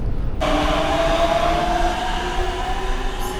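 A Budapest metro train pulls out of an underground station, a loud rumbling roar with a rising electric motor whine that starts suddenly and holds steady, clattering wheels beneath, close and echoing in the tunnel.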